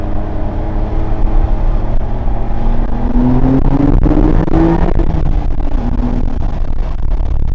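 A 2025 Porsche 911 Carrera T engine pulls hard from inside the cabin, its steady hum rising in pitch as it accelerates, then easing back under constant road noise.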